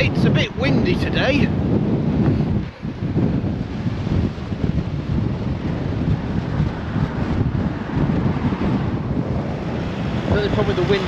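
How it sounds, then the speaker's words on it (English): Strong wind buffets the microphone on an exposed moorland hiking trail in the Peak District, a steady roaring rush that stays loud and near for the whole stretch, with only a brief lull partway through. "It's a bit windy today."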